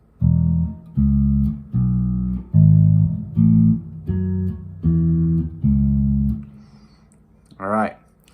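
Guitar playing two phrases of a song, eight evenly spaced ringing low notes in a steady rhythm, close and clear, followed by a brief spoken word at the end.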